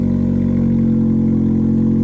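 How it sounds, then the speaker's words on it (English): A Fiat 500 Pop fitted with an Abarth exhaust idles loudly after a cold start, a steady, deep and throaty engine drone that holds constant and close with no talking. "There's the cold start."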